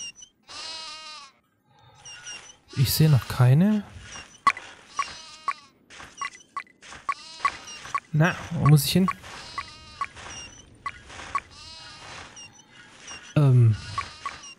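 Goats bleat in Die Siedler 4, with three bursts of wavering cries spaced several seconds apart over game ambience. Someone talks throughout.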